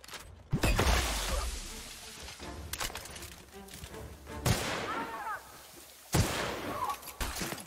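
The UDL Gloop Gun fires in the video game The Outer Worlds, three separate bursting, splashy blasts with combat noise around them.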